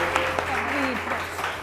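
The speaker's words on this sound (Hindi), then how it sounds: "तालियां जी।" Studio audience applause on a televised morning show, a steady wash of clapping running under a host's continuous talk for under two seconds.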